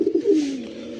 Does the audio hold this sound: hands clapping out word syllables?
no